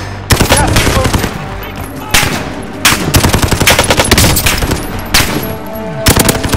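Rapid automatic gunfire in a video game comes in repeated loud bursts, close and harsh, with short pauses between volleys across several seconds.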